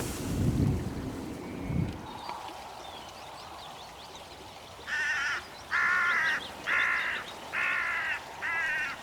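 A hooded crow caws after landing on the ground, five harsh, evenly spaced calls close by after a burst of wind rumble, with a faint background hum.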